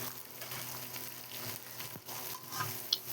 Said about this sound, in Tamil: இப்போது வெங்காயம் போட்டாச்சு இது எல்லாத்தையும் நம்ம இப்போது கிளறி விட்டுக்கலாம்